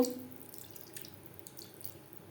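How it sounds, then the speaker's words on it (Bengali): Water pours softly into a pot of potato and pointed gourd curry, a brief, faint, steady splash after an initial clink, with no voice. "দিয়ে দেবো জল"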